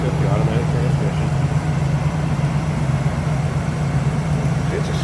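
A 1976 Chevrolet Malibu Classic with a 350 V8 and turbo 350 automatic idles smoothly and steadily close by, a low, even rumble throughout.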